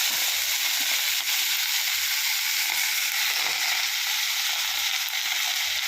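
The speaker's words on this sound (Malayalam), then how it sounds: "സാമ്പാർ ചീര അരിഞ്ഞെടുത്തിട്ട് നമുക്കത് ഇട്ട് കൊടുക്കാം" Chopped sambar spinach hits hot oil in a pan and sizzles loudly and steadily, a dense continuous frying hiss with faint stirring beneath it and no voices.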